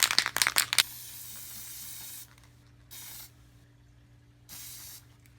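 Short bursts of spray from a can of gunmetal gray paint coating a 1980 Chevy mud truck body, a quick cluster of rapid puffs followed by three longer steady hisses separated by quiet pauses.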